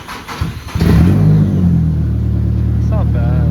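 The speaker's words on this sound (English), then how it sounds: "everyone wants to hear the new exhaust?" A turbocharged Nissan S13 revs through its new exhaust, rising into a loud, sustained engine drone up close after a few short blips, while people talk nearby.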